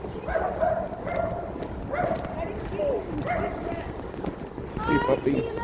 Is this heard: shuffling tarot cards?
no